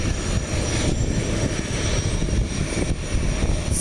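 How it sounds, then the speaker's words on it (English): An airplane engine roars at takeoff power, a steady loud drone with throbbing propeller-like pulses, continuous and fairly close with no talk. "See, if that plane's having a takeoff"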